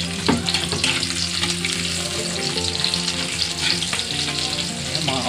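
Chopped onion frying with garlic in a pan, a loud, continuous close sizzle with crackling bursts and occasional clinks, no voices over it.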